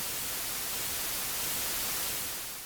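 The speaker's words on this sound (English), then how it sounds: "just the band of noise detected by Penzias and Wilson" Steady broadband radio static standing in for the cosmic microwave background, the faint noise first detected with the Bell Labs horn antenna; a constant hiss at even level throughout, with no voices.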